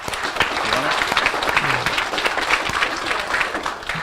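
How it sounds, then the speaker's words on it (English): A room full of people gives a sustained round of applause, steady dense clapping at close range lasting throughout with a faint murmur of voices underneath. "Let's give him a round of applause."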